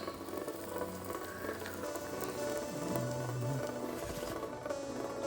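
Steady rain pattering on a tent, a dense broadband hiss with scattered drops, continuous and close throughout, at a mountain camp in Peru.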